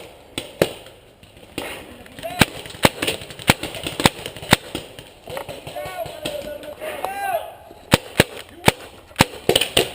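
Airsoft guns firing during an outdoor skirmish game, sharp pops going off singly and in short irregular bursts, some near and some farther off, with players shouting under the shots.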